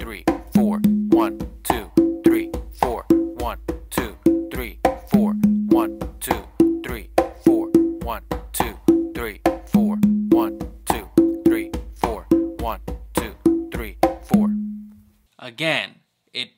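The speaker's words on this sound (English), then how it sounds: "bass close slap back to those two opens on the tumba." Congas play alternating cha cha cha variations with slaps, bass and open tones on the tumba, a steady, repeating pattern of crisp strokes lasting about fifteen seconds before stopping, followed by a brief voice.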